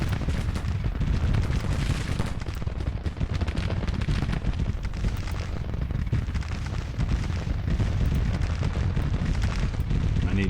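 Artillery guns fire in a Civil War battle in Grand Tactician, a dense, continuous barrage of booms and rumbling blasts that stays loud throughout, with no gaps between the shots.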